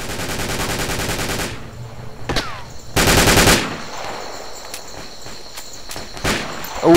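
Automatic gunfire in Project Reality, a military shooter game: a sustained full-auto burst for about a second and a half, a second loud volley near three seconds, then scattered single shots and clatter over faint background noise.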